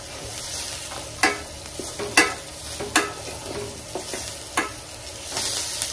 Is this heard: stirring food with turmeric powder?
yes